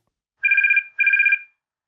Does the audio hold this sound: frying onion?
no